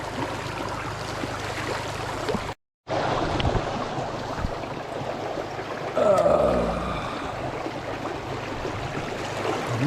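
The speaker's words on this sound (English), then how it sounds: "Right there in that swift water." Swift stream water rushing steadily past a river fishing spot, a continuous broadband wash, loud and close, with a brief dropout and a short surge partway through.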